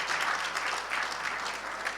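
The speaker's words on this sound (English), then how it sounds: "A big round of applause" An audience at a diplomatic evening celebration of India–Bangladesh friendship applauds, a full, even wash of clapping heard from a moderate distance, with no talk over it.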